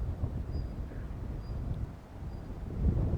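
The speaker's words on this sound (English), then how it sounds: "It's a bit windy up here, see?" Wind blows across a hilltop viewpoint as a steady, low buffeting rumble on the microphone, swelling into a stronger gust near the end, with no voices.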